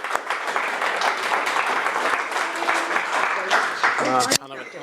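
A meetup audience at a tester gathering gives a round of applause, a dense burst of clapping lasting several seconds before it cuts off abruptly and a voice begins speaking.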